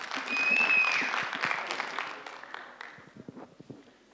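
An audience at a school speaking contest applauds as the next student speaker is introduced; clapping starts fairly loud, then thins out into scattered individual claps.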